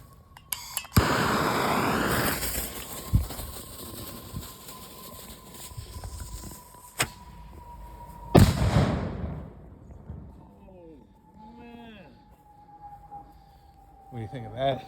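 A half stick firework is lit outdoors: a fizzing fuse hisses, then a sharp loud blast booms with a ringing tail. Voices follow afterward, with a faint steady tone running underneath.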